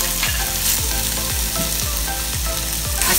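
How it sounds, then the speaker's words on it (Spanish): Sausage and longaniza fry in a pan for frijoles charros, a loud constant sizzle broken by regular scraping stirs roughly every half second, close up with no voices. "Ya que doró salchichita, vamos a ir agregando la longanicita"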